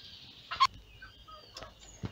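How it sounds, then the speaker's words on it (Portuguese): Broody free-range hens sitting together in a nest give a few short, soft clucks and murmurs, close by and fairly quiet, with gaps of low background noise between them. "Aqui nesse ninho aqui tem três galinhas chocas"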